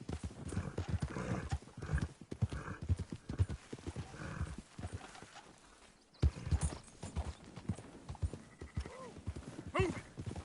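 Horse hooves clip-clop in a steady, close rhythm, with occasional neighs and shouted commands from a rider over the walking gait.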